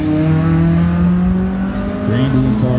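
An autocross race car at a regional club event runs the course with a loud sustained engine drone that shifts pitch partway through, heard close.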